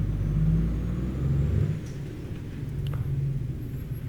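A truck engine in Euro Truck Simulator 2 rumbles low and steady, shifting in level partway through as it settles into a continuous deep idle with a faint whine above it.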